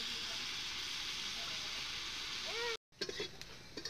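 Potatoes fry slowly over low heat for a Bengali bata fish recipe, a soft continuous sizzle that cuts out abruptly for a moment, then resumes with a few light clatters.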